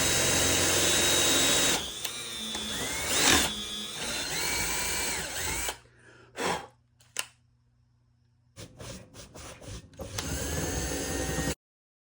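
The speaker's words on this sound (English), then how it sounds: "then with some polishing compound and the Dremel" A Dremel rotary tool buffing ukulele tuning pegs with polishing compound whines loudly and steadily, then cuts out into short bursts and quiet gaps before running continuously again.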